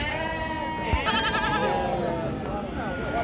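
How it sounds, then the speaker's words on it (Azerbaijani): Goats and young kids bleat at a sheep and goat market in Ganja, with wavering, overlapping cries rising loudest midway through a steady background of crowd murmur. "Deməli Fariz qardaşım keçiləridir, çəpişləridir"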